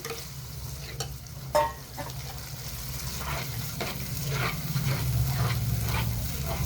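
Spice paste for paneer rezala, loosened with a splash of water and salt, stir-fried in a pan: a steady close sizzle with scraping spatula strokes, one sharp clatter early on, and the frying growing louder toward the end.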